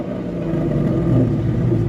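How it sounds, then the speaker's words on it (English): A Ford Coyote V8 with new mufflers rumbles with a deep, throaty tone, holding a steady low growl with a slight swell in the middle, close by. "when it goes back to normal idle, give it a little rev."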